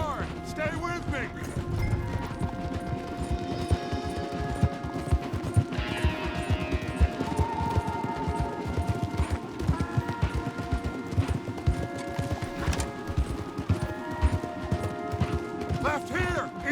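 Horses gallop hard in the Western video game Red Dead Redemption 2, a rapid continuous hoofbeat clatter under game music and effects, with scattered crashes and a whinny, and voices speaking over the ride.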